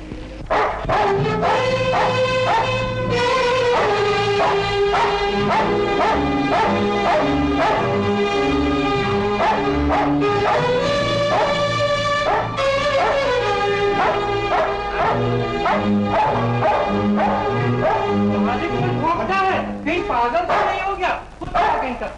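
Dogs bark and yip repeatedly through a scene from a classic Hindi film, the sharp calls mixed in with dense music that runs without a break.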